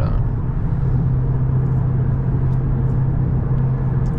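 Steady low engine and tyre rumble inside a Cupra car cruising on a highway at about 110 km/h, loud and constant with no pauses or talk.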